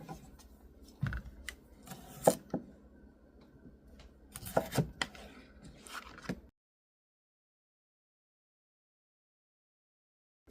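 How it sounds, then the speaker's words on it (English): A knife chopping purple potatoes on a board, a run of quiet irregular cuts and taps over several seconds before falling silent. "And I'm gonna get chopping."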